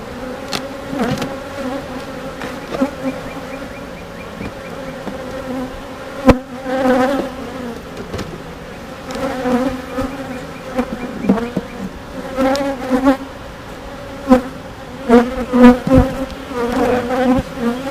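A dense, steady buzzing of many honeybees around an open hive, droning continuously with individual bees swelling louder as they pass near.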